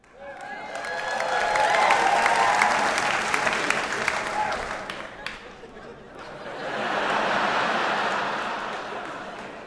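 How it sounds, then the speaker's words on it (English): Comedy club audience breaking into loud, sustained applause with some cheering and chuckles, swelling for several seconds, dipping briefly, then rising again in a second wave. "Don't you ever applaud an inanimate object again."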